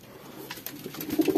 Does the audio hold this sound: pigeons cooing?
yes